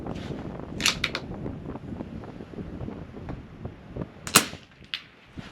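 .22 rifle shots at targets during an NRL22 match outdoors, a few sharp cracks spaced seconds apart against wind noise.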